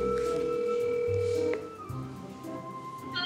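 A phone call is placed: a steady electronic ringback tone sounds for about a second and a half, then breaks off into short, softer tones as the line connects.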